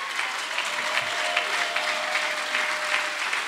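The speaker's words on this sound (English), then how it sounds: "Life Church, we applaud you tonight" Steady applause from a church congregation, dense continuous clapping throughout with no distinct voices.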